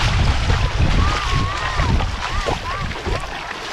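Strong wind at the beach in Dzhemete, Anapa, a loud low roar buffeting the microphone alongside surf, with faint voices faintly audible in the background.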